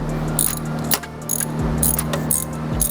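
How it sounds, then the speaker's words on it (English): A ratchet loosens a 16mm bolt on the air box while an intake is fitted to a BMW B58 engine. It makes close, loud bursts of rapid clicking in repeated strokes. "It's a 16mm. We're going to go ahead and loosen that."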